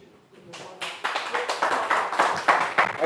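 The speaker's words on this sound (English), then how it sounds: "I can't hear what she's saying if everybody's clapping." An audience at a Woodsmoke Ranch board meeting breaks into clapping that starts sparse and builds into a steady round of close, overlapping claps lasting a few seconds.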